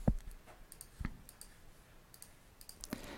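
A computer mouse clicks a few times at a desk while formatting headings in a Google Doc, sharp close single clicks spaced about a second apart, with faint keyboard-like taps in a quiet room.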